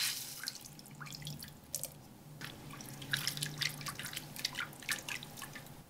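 Water trickles and splashes into a pan holding melted margarine and flour, with scattered drips and light pouring noises, fairly quiet and close, no voices.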